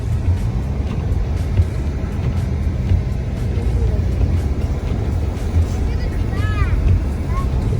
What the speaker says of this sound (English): the car's sliding, buddy